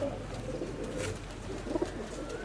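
Pigeons of a selected breed cooing softly nearby, low repeated throaty calls over a steady outdoor background hum, no speech.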